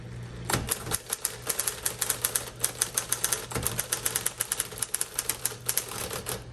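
A 1958 Smith Corona electric typewriter with a non-working bell clatters through a fast, steady run of keystrokes, close and fairly loud, with no voices.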